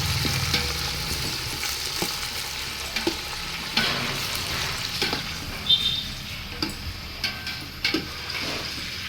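Onions sautéing in a pan with mint, curry leaves and coriander for mutton biryani: a loud, continuous sizzle broken by the repeated scrape and clatter of stirring.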